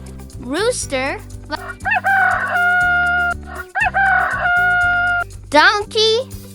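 Over cheerful background music in a children's animal song, a rooster crows several times, the cock-a-doodle-doo calls clear and prominent, with singing voices between them.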